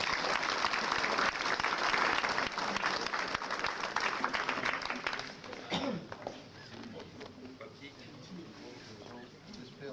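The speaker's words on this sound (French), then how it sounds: "Je vous demande de les applaudir, 15 ans ça commence à compter." Loud applause from an audience at a fire service ceremony where firefighters receive medals for 15 years of service, dense and steady for about six seconds before thinning out under murmuring voices.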